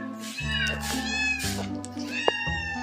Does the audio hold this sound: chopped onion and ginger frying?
no